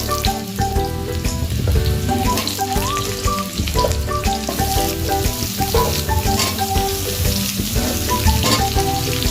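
Potatoes frying in a pan, with bottle gourd to follow in a prawn curry, make a dense, continuous sizzle like rain on a surface. Loud background music with a melody plays throughout, and nobody speaks.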